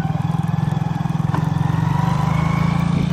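A motorcycle engine runs steadily while riding, a close, loud, rapid pulsing thrum from the exhaust with a slight rise in pitch as it accelerates.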